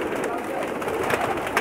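A dense crowd of well over ten thousand pigeons coos in a loft, a thick continuous murmur of overlapping calls, loud and close.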